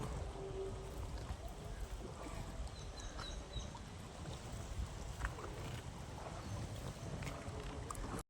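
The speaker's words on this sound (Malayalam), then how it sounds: "ഇത്രയും ദൂരം വന്നിട്ടുണ്ട് വള്ളം തുഴഞ്ഞുഴഞ്ഞ്" Steady splashing and lapping water with wind rumble, as a small boat is rowed along Sasthamkotta Lake in Kerala at a constant pace, with no voices.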